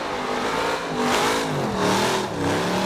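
Race car engine revs hard while drifting around a corner, a loud rising and falling mechanical roar with shifting pitch as the back end slides.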